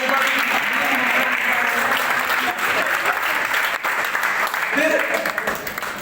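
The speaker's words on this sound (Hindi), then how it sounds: "ताली बजा दो" An audience claps in sustained, dense applause that stays loud and steady throughout, with a voice audible over it.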